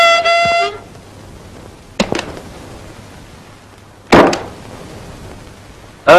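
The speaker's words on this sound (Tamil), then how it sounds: "ஹார்ன் அடிக்கிறேன்ல, காது கேட்கல?" Loud car horn honks ring out in three separate blasts, one at the start and two more spaced a couple of seconds apart, over a quiet street background.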